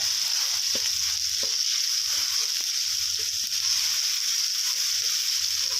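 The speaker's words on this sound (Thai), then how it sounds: "นำพริกแกงลงไปผัดกับน้ำมันนะครับ ให้หอมนะครับ" Red curry paste frying in oil in a pan, a bright constant sizzle close up with soft stirring knocks and scrapes scattered through it.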